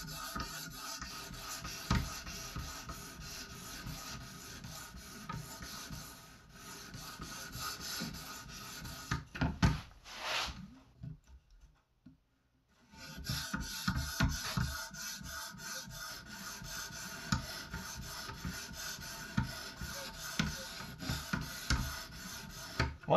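A Japanese bench knife is sharpened on a 650 grit whetstone in repeated gritty rasping strokes, close and clear, stopping for a short pause midway before the rubbing resumes.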